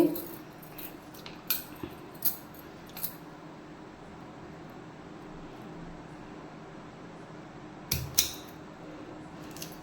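A kitchen knife slices ivy gourd (kovakkai) on a board, giving a quick run of crisp, quiet cuts at the start. A long pause follows, then a couple more sharp cuts near the end.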